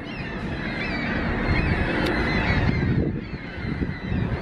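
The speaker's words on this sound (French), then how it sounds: "Les oiseaux." Flock of geese honking loudly and continuously, many overlapping calls close by in a steady noisy chorus.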